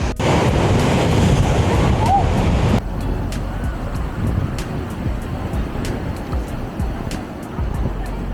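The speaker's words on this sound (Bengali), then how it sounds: "ওল্ড দীঘাতে দেখেছেন এখনও কিন্তু পাথরে জল আছড়ে ফেলছে" Surf at Old Digha beach dashes against rocky shore, a loud, continuous roar of breaking water mixed with wind buffeting the microphone, heaviest in the first few seconds before easing to a steadier wash.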